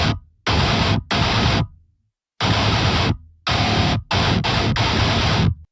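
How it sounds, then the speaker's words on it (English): Virtual guitar from the Shreddage Hydra sample library by Impact Soundworks, heard as loud, dense chugging bursts of heavy tone separated by sharp silent gaps, with several short stabs near the end and no voices. "For that I am using the shredded Hydra from Impact Soundworks, and it sounds like this."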